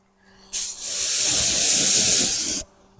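A water sprayer gives one close, steady hiss for about two seconds while rinsing a car during decontamination, cutting in and out sharply.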